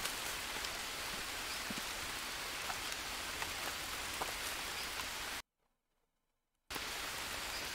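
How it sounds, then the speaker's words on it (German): Steady rain pattering on a surface, a dense hiss with scattered drop taps, briefly cutting to silence before resuming. "es regnet schon wieder"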